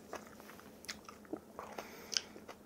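Quiet, close crunchy bites and chewing of spicy Korean kimchi during a home meal of rice and side dishes, several separate crisp crunches spread through the moment with soft mouth sounds between.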